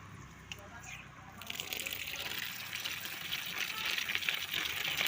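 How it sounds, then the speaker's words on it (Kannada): Water gushes and splashes steadily, growing louder and fuller after the first second, close by, with a voice faintly underneath. "ನೀರು ಸಿಡಿತೈತೆ"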